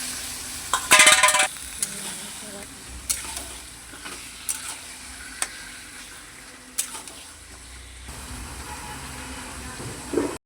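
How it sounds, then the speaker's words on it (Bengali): Meat is tipped into spices already cooked down in a pan and stirred, with a sharp burst of sizzling at first, then scraping stirs and crackles over a low, steady hiss. "মশলাটা দেখো কষানো হয়ে গিয়েছে, মাংসটা ঢেলে দিলাম।"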